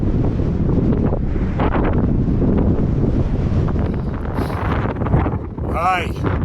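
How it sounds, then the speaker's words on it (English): A strong 15-mile-an-hour desert headwind buffets the microphone with a loud, continuous roaring rumble that runs the whole time. A voice rises through the wind briefly near the end. "And the wind is really picking up right in our face."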